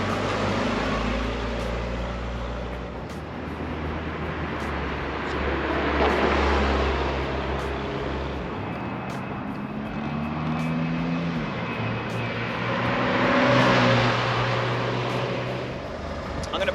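A pair of 1984 Pontiac Fiero Indy pace cars cruising at 40 mph, with a steady, loud broadband road and engine roar that swells and eases across the whole stretch, no voices over it.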